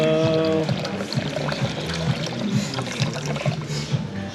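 A steady trickling pour of water into a bowl of mole seasoning blend in a Puebla, Mexico kitchen, continuous and close for several seconds, with a low hum beneath and no talking.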